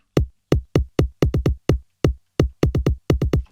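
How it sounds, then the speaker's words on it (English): Punchy electronic kick drum for a vocal remix, playing alone in a syncopated pattern of deep thumps with short pauses, some hits in quick doubles and triples, each with a sharp attack and short boomy decay. "The way that we do this is we just use a kick drum to create that rhythm."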